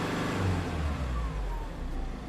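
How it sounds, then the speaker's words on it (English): Force Gurkha Xtreme engine revving, a loud low rumble that surges and holds steady, heard close with no voices. "even while revving, the amount of torque from the engine is just shaking the car like this"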